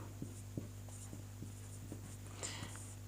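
Marker or chalk strokes on a board during a Sanskrit lesson, a series of soft, brief scratchy taps at an irregular rhythm over a steady low hum, close and fairly faint, with no talking.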